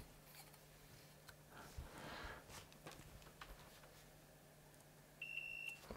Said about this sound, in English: Let's do a quick continuity test across there.